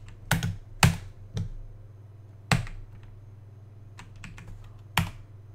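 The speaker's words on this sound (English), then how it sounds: "typing it in." Someone types a command on a computer keyboard running elementary OS, sparse separate clicks and short bursts of keystrokes at close range over a low steady hum.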